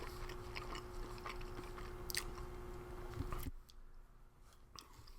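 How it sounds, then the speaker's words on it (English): Soft, sticky chewing of a steamed date, ginger and walnut pudding from a UN vegetarian ration, close to the mouth over a steady background hiss that drops away partway through, with no talking. "It's almost like a little gummy when you chew it"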